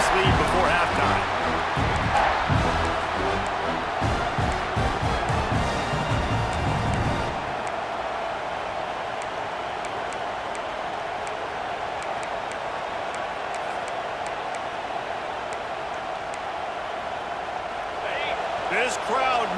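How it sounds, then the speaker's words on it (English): In EA Sports College Football 26, a stadium crowd roars as a steady, broad wash of noise, with heavy thumping and booming early on. It then settles into a continuous crowd hum, and a voice talks over parts of it. "This crowd knows when to bring it."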